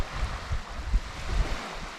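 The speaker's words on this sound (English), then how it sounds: "The water is just coming up over the ledges in front of me" Sea water of the Bristol Channel at Goldcliff, South Wales, washing up over rocky ledges on a rising tide: a continuous broadband rushing and swirling with low gusty surges, steady and moderately close, with no voices.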